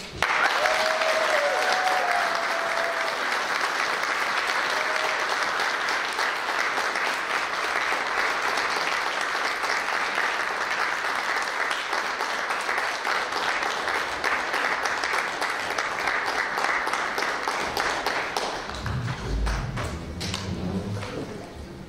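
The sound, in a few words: audience applause at a wind orchestra anniversary concert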